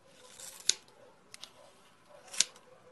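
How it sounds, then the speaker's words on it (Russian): Scissors snip hair for a slanted fringe: two crisp, close metallic cuts about two seconds apart, with faint quieter clicks between and no talking. "Берем какие-никакие ножницы."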